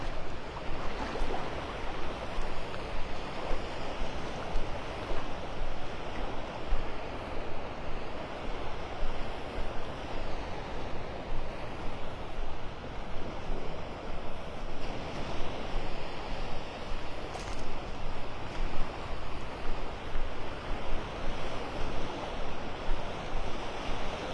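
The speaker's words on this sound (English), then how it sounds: "Waves rolling over the sandbar out there as the tide goes out." Waves roll over a sandbar off a Gulf beach in North Naples, Florida, as the tide goes out, giving a steady, full wash of surf that stays constant throughout, with light wind and no voices.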